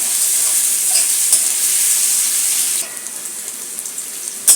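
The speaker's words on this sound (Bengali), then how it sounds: "পেঁয়াজটা একটু লাল লাল করে ভাজবো" Onions sizzle steadily as they fry in a pan for an amudi fish chorchori, a close, continuous hiss that drops to a softer level partway through, with a few faint clicks near the end.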